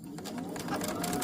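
A sewing machine stitching the fabric of a slip dress, heard as a brief, steady, fairly close mechanical whir lasting just over a second.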